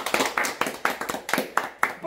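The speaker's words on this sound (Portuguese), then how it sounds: "Gente, uma salva de palmas bem forte!" A small group claps in a steady rhythm at a family's new home, about a dozen sharp handclaps spaced evenly apart, fairly quiet and close, with voices mixed in.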